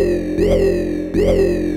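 A Behringer 2600 synthesizer plays two repeated notes with a regular envelope modulating its oscillator, each opening in a quick pitch sweep and then holding a buzzy, harmonically rich tone, loud and alone.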